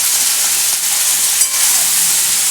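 Chopped okra fries in a pan with Kashmiri chili powder for a shrimp and okra masala, giving a loud, close, continuous sizzling hiss that holds steady with only slight swells.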